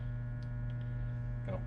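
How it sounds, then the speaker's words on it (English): An artisan metal lathe hums steadily after being switched on, a low, even motor drone with a faint tonal whine, fairly quiet and alone. "I'm going to kick the machine on and see how it acts"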